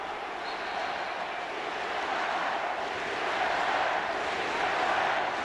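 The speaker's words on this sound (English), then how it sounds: "Yes, we can, is the chant now by the crowd. Sí se puede." Basketball arena crowd at a Mexico versus Argentina game in the 2015 FIBA Americas Championship chanting "Sí se puede", a steady, dense roar of many voices that swells slightly toward the end.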